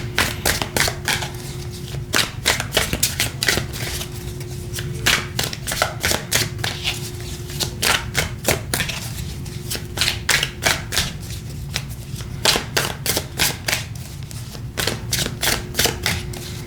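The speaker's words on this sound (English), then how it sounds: "I'm gonna give it a good shuffle" A deck of tarot cards being shuffled by hand, a long series of quick papery riffles and snaps in bursts, close and loud, with no talking.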